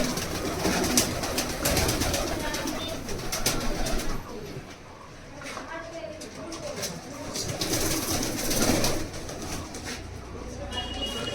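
Teddy pigeons in a standing collection coo softly against a busy, noisy background, while voices talk at the same time.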